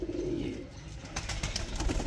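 Pet pigeons coo close by in a short, soft burst of low throaty calls, with a faint rustle and no talking.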